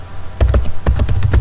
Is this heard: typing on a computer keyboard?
yes